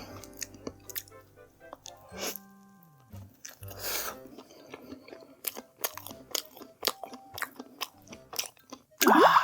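Someone bites into and chews a cream-filled doughnut up close, with soft crunches, squishy bites and wet chewing sounds in irregular bursts, and a brief vocal sound at the end.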